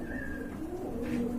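Pigeons at a seller's stall give soft, low cooing calls, close and quiet, repeating in a gentle rolling rhythm with no talk over them.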